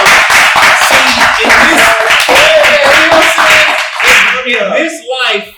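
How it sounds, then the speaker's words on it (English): Sharp, rhythmic hand claps from a small audience, loud and close, mixed with voices and music, ending as a person speaks over the last claps. "Clap it up for that, y'all."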